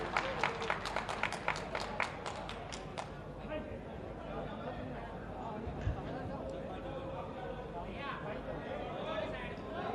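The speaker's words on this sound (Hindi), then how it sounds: "एक बार जोरदार तालियों के साथ स्वागत कीजिए" Crowd applause at a public event welcoming the Chief Minister of Uttar Pradesh in Meerut: a burst of sharp claps at first, thinning into a sustained wash of clapping and crowd noise.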